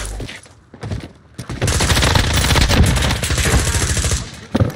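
Sustained bursts of automatic gunfire in Call of Duty, with rapid, loud, close shots rattling continuously after a few earlier single cracks.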